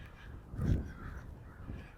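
A crow caws once loudly in a city park in Regina, with fainter calls following, outdoors with a low background hum.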